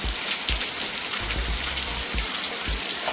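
Heavy monsoon rain falls steadily, close and loud, a continuous hiss of drops on surfaces with occasional low thuds underneath.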